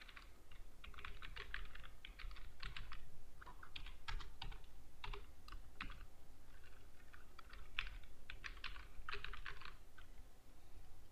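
Steady typing on a computer keyboard, entering text into a PDF form field; clusters of quick key clicks run continuously for about eleven seconds with short pauses, close and fairly quiet, no talking.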